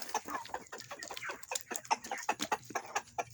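Rooster clucking repeatedly at feeding time among free-range chickens, a rapid run of close, moderately loud bucks and clucks with small scuffles between them, no talk over it.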